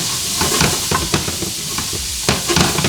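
Carrot, garlic and onion sizzling in melted butter in a hot pan, with a loud crackling fry broken by quick stirring scrapes and bursts.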